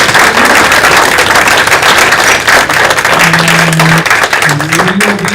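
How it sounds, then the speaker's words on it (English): An audience at a science cafe talk bursts into loud, sustained applause, dense clapping filling the room throughout, with a few voices faintly mixed in. "will you give them a round of applause?"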